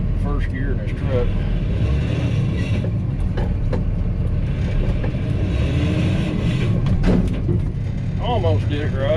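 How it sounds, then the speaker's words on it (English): Truck engine pulling in first gear while preparing to dump a load of dirt at a parking lot job, a loud steady low rumble throughout with brief voices faintly over it. "First gear in this truck."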